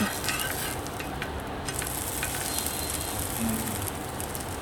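Dosa frying on a hot pan while being flipped, a steady close sizzle filling the whole stretch with faint scraping on top.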